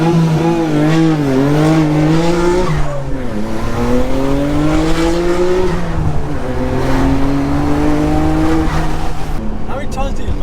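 A German car with a 3.2 V6 at the Japfest 2024 car show, revving hard. The engine note climbs and falls in repeated sweeps, loud and close, and stays continuous throughout.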